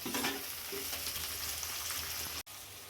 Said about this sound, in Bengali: টমেটোটা ভালো করে একটু ভেজে নেবো